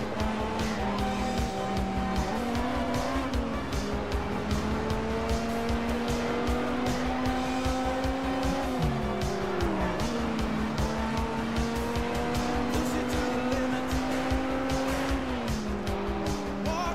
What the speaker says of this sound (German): Erstmal Vollgas geben